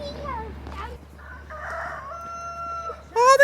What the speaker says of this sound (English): Oh, they got a cockerel!